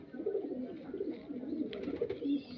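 A pet pigeon coos softly and continuously at close range, low throaty murmuring rolling on without pause, fairly quiet.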